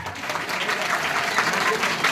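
A crowd at a Republic Day celebration claps steadily, a dense patter of applause that holds at even strength throughout.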